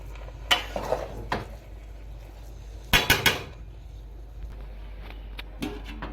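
Metal lid set onto a pot of Basanti pulao: a few sharp clanks and rattles, with a cluster of ringing knocks midway as the lid settles, then quieter taps.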